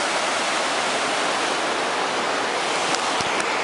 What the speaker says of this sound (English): We're at the very top of the waterfall. This is where it's all coming from.